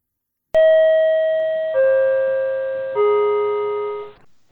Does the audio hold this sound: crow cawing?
no